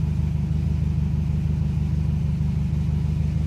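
A 2015 Subaru WRX STI with a Stage 1.5 setup idles at normal operating temperature, its boxer engine putting out a steady, close, low rumble with a faint throb and no speech.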